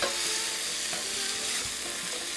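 Steady sizzling of smoke-roasted julienned slices being heated through in a hot pan, a continuous bright frying hiss with faint stirring, no voices.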